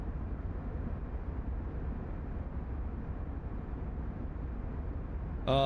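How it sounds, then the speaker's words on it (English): A B-17 Flying Fortress engine in a MicroProse flight simulator game drones steadily and loudly throughout, a constant distorted rumble that ends with a short sharp tonal sound. "my headset is blowing up with distortion from this engine"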